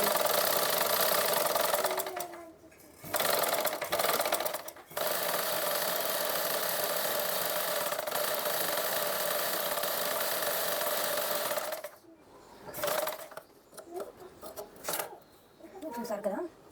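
A sewing machine stitches thread piping onto a blouse neckline, running in steady mechanical bursts from about 2 to 12 seconds with short pauses, followed by quieter handling noises and a voice speaking near the end.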